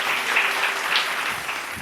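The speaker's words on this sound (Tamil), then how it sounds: "கைத்தட்டு வருது அவருக்கு." An audience gathered for a Bible study message breaks into applause, a steady wash of many hands clapping at close range for about two seconds, with no voices over it.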